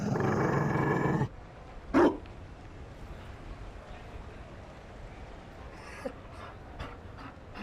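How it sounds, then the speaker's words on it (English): A Mabari war dog in the video game Dragon Age Inquisition pants and huffs briefly, with a short loud yelp-like burst near the start of the clip, followed by quieter game ambience. "You... found a dog?"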